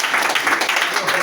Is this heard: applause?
yes